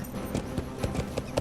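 War steed hooves cantering in the LOTRO game world, a soft rhythmic clip-clop of several close, evenly spaced hoofbeats over a steady background bed.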